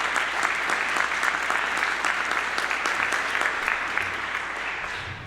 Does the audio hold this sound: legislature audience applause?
yes